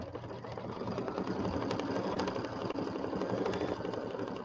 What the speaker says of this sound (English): we're going to place the fabric and sew the fabric down